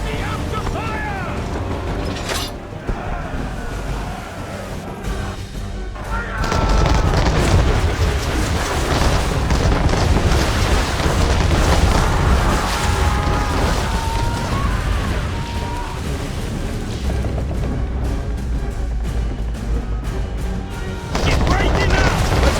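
Ship cannons fire in the Assassin's Creed III video game amid a dense, loud naval battle din, with booms and clattering mechanisms blending into continuous noise while voices shout over it.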